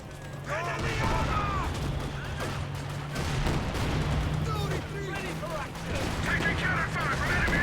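An MG-34 machine gun fires in a Company of Heroes 2 battle, bursts of gunfire and artillery-like booms rolling under steady commentary talk, with a continuous low hum throughout.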